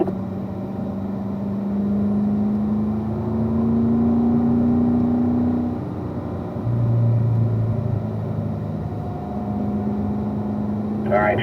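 A car drives a track, its engine droning loudly and rising in pitch through the gears with shifts between pulls, heard from inside the cabin under ongoing coaching talk.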